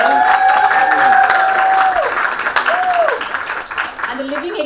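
An audience in a hall at a book launch claps loudly and steadily for several seconds, with a tonal whine audible over the applause before the clapping gradually thins and fades.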